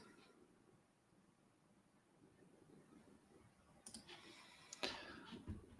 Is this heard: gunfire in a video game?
no